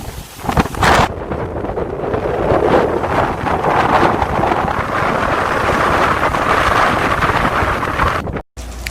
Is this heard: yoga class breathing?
no